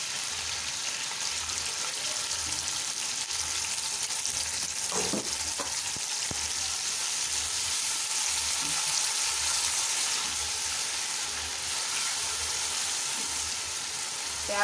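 Sliced onions fry in about a cup of cooking oil, giving a loud, continuous close-up sizzle with occasional stirring scrapes and no voices, as the base for masala mutton chops.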